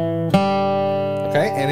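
A bluegrass G run on acoustic guitar ends without its final pull-off: one clear plucked note rings on, then a second attack near the end.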